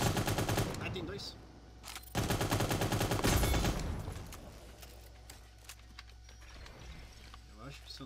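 Gunfire in the online shooter Cyber Hunter comes as rapid automatic bursts, two loud dense volleys in quick succession, then quieter scattered shots and game noises behind a player talking.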